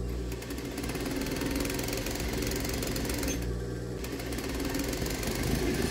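A sewing machine stitches stretch elastic onto the waistband of a swimsuit, a steady, continuous mechanical whir and rapid needle clatter running close and unbroken for several seconds with no talking.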